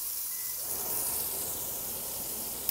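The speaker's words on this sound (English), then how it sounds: "And then we're going to drop our meat in." Beef dropped into a hot pan with vegetable oil, bursting into a steady, broad sizzling hiss that swells after the first half second and holds evenly, close and fairly loud.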